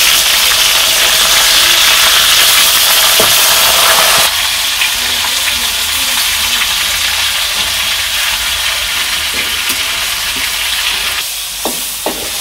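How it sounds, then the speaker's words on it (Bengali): Fish frying in oil in a village kitchen: a loud, dense sizzle drops to a softer, crackling fry partway through, with a few light pops near the end. "এই যে মাছ ভাজ করছি"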